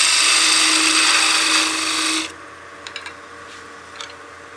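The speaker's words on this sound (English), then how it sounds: "I'm going to do a peel cut too" A wood lathe takes a peel cut with a parting tool while turning a German smoker figure, making a loud, harsh cutting hiss for about two seconds before it breaks off and leaves a quieter motor hum with a few faint ticks.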